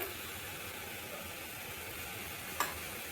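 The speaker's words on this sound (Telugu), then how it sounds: "నేను ప్యాన్ పెట్టుకొని కొంచెం ఆయిల్ పోసుకున్నాను. నెక్స్ట్ ఇప్పుడు కొంచెం ఆయిల్ వేడయ్యాక కొంచెం కారం, కొంచెం పసుపు," Oil heating in a pan with chili powder and turmeric gives a faint, steady sizzle, even and hissy throughout, with one brief clink near the end and no talking.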